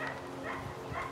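A mixed-breed dog at a scent-search competition in Peterhof gives short barks and whimpers amid continuous outdoor background noise.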